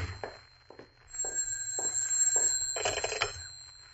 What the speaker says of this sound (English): Oh, and there's my phone.